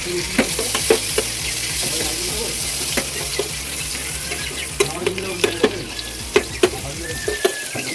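Bay leaves and chili sizzle steadily in hot cooking oil at close range, with scattered clicks from a spoon stirring the pan and no talking.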